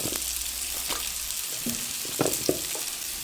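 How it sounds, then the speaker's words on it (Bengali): Bottle gourd greens sizzle in hot oil and spices, a steady close frying hiss broken by a few stirring scrapes and clacks. "এখন এই লাউ শাক মশলার মধ্যে দিয়ে দিচ্ছি"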